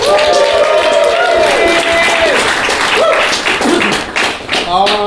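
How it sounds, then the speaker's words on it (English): Dense audience applause at an improv comedy show in Glasgow, loud sustained clapping with a voice speaking over it before it tapers slightly. "Ron, let's give Rowan a round of applause."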